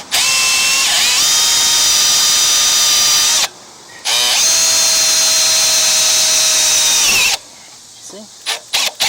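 The 179cc engine of a Craftsman 24-inch snow blower runs loud and close with a steady droning whine, cutting out briefly and then resuming before falling quiet.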